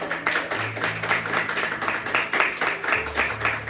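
A church congregation applauding during a sermon, a short burst of steady, moderately loud clapping from many hands, with a low hum underneath.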